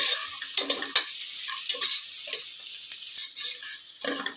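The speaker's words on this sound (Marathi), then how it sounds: "हे बघा, आपण ऑनियन टॉस करतोय, जोपर्यंत ऑनियन पूर्ण सॉफ्ट आणि आपला कलर सोडूपर्यंत आपल्याला ऑनियन ऑइल मध्ये फ्राय करायचं आहे।" Onions tossed and fried in oil for a vegetable pulao, giving a steady bright sizzle with repeated stirring scrapes and light tossing bursts, close up and with no voices.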